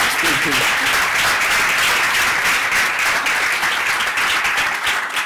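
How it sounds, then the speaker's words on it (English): A live audience bursts into loud, sustained applause, dense clapping filling the room evenly for several seconds, with a brief voice at the start. "Round of applause, please"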